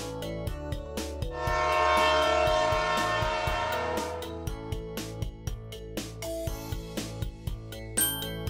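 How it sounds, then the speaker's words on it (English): A long train horn blares for a couple of seconds, then rhythmic clacking and thumps follow, like cars rolling past, with music-like tones throughout. "Train."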